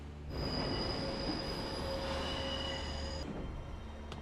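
Train wheels squeal in a sustained, piercing metallic whine over the rumble of the railcars, loud and continuous before cutting off, in a Death Note anime scene.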